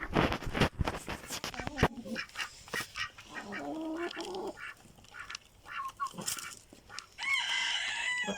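Chickens and ducks eating feed cluck and quack busily in a noisy, close flock, calls overlapping continuously with scratching and pecking sounds.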